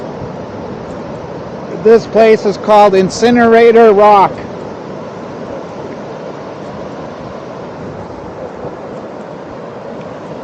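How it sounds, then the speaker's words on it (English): Pacific Ocean surf at Long Beach near Incinerator Rock, Tofino: a steady, even wash of waves and wind rushing throughout, with someone talking briefly over it early on. "The Pacific Ocean at Tofino."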